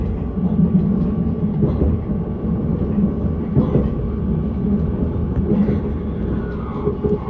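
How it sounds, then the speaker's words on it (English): An Innsbruck S-Bahn train climbs a mountainside, heard from onboard as a steady low rumble of wheels and motors with faint periodic clunks, continuous and fairly loud throughout. "The train crawls up the side of a mountain,"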